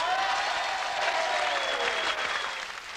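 Applause for Martin Rice, top clubman of 1983 at Silverstone, given a 1984 250 Yamaha: a steady, dense crowd clapping that holds for several seconds and then fades slightly near the end.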